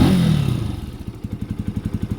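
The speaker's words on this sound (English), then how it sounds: "You're gonna hear it in camera, you know, the factory exhaust." Benelli TNT 135 motorcycle with factory exhaust, a brief rising rev that falls away into a quick, even putter of idle pulses, close and fairly loud with no voices.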